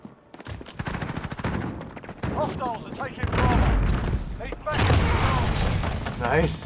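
Kilo 141 assault rifle gunfire in a multiplayer match of the video game Modern Warfare, loud bursts and explosions over a busy battle, with a player talking over the action.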